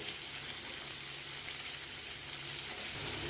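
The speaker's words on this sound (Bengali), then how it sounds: "লাল আলু বেশি আলু আর পেঁপে আর কুমড়ো দিয়ে ভালো করে কষে নেবে" Red potatoes, papaya and pumpkin frying in a pan for a festive shukto, giving a soft continuous sizzle, fairly quiet and steady throughout.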